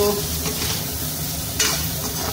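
Salt and turmeric-coated food stirred in a frying pan at home, with a steady close sizzle and scraping stir strokes throughout, a louder scrape near the end.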